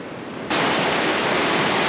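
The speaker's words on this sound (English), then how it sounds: "Waterfall again." Waterfall at beaver dams in Nevada's Ruby Mountains: a dense, steady rush of falling water that jumps suddenly louder after a quiet half second, then stays constant and close.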